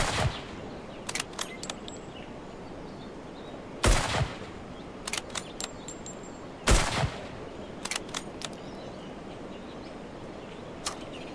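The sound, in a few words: high-powered gun shots in video game HumanitZ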